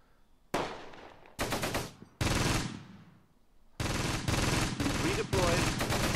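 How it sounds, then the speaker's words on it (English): Bursts of machine gun fire from the Close Combat war game, several loud rapid rattling volleys separated by short pauses, some ringing out with a decaying tail. "we need this machine gun silenced"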